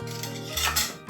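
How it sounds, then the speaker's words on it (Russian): A fork scrapes and clinks against a bowl while stirring a grated zucchini pizza mixture, a brief close, metallic stirring sound with a faint musical tone underneath. "Это взять вилочку и все перемешать."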